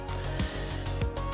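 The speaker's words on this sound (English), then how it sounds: "Now I realise I have to move the Blu-ray player, so I'm just going to undo the screws." A ratcheting screwdriver backs out screws holding a Blu-ray drive in a desktop PC, giving a rapid run of close metallic clicks with a couple of stronger ratchet pulses.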